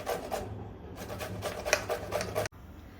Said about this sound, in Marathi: काकड्या ज्या आहे त्या किसून घ्यायच्या आहे